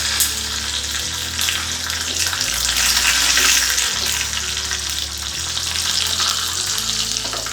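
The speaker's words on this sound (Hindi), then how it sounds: "और अब इसमें 4-5 कड़ी पत्ता डाल देंगे।" Curry leaves sizzle in hot oil while making South Indian sooji appam, a steady, dense crackling fry that continues throughout over a low, shifting background hum.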